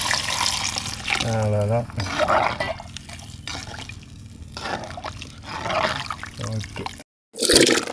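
Water pours and splashes into a pan of sautéed tomato and garlic for a pumpkin curry, a soft trickling wash heard under someone speaking, with a brief silent gap near the end.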